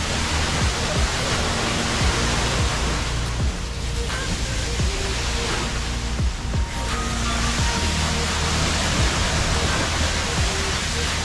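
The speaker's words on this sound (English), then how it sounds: "this is meant to be the less impressive of the waterfalls" A waterfall on Camiguin Island in the Philippines roars as a dense, steady broadband rush that fills the whole stretch, loud and continuous with no pauses.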